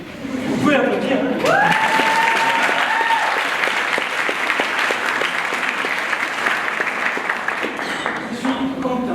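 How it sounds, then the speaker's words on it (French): Audience applause at a French oratory contest, a loud sustained wash of clapping from a large crowd lasting several seconds, with a voice speaking briefly over it near the start. "Vous pouvez applaudir."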